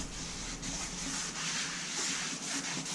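Leather protectant being rubbed into a Tesla Model Y seat in circular motions makes a steady, close, soft rubbing and swishing that continues without a break, with no talking.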